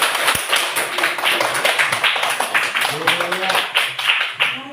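A class of students claps hands together in a classroom, a busy, continuous patter of many hands lasting several seconds, fairly close and even in level, with voices mixed in.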